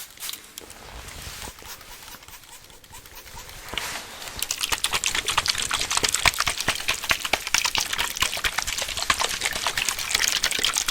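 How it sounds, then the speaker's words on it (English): Plain water trickling and splashing in close ASMR recording, quiet at first and then a dense, crackly stream of small droplets and liquid patter that continues close to the microphone. "This is just water."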